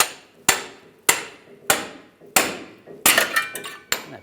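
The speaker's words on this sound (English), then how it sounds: "We're going to use a pickle fork. Just line this up underneath here, give it a tap." A hammer taps a steel pickle fork to split the front lower ball joint from the knuckle on a 1998-2010 Volkswagen Beetle: about seven sharp, ringing metal strikes, close and loud, spaced roughly half a second apart, with no talk.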